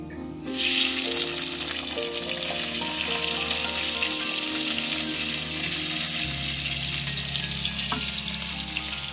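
Cut potatoes drop into hot oil for a Bengali koi fish curry, setting off a sudden loud sizzle that holds as a dense, steady frying hiss close by.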